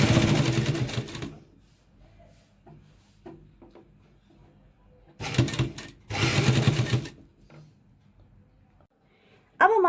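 A sewing machine stitching a coat collar runs in loud bursts, one long run at the start and two more mid-clip, separated by quiet pauses with light handling clicks.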